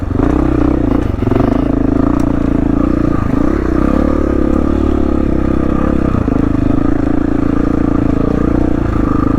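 A dirt motorcycle lugs along the Kane Creek trail in Moab in low gear, its engine a loud, close, steady low drone with slight surges and occasional clatter from the rough ground.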